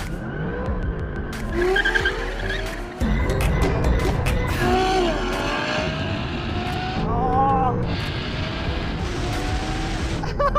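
An Aston Martin DBS launching in a drag race with traction control off: engine roaring and revving with rising pitch sweeps, tires squealing, and a sharp surge partway through, loud and close, with other cars audible.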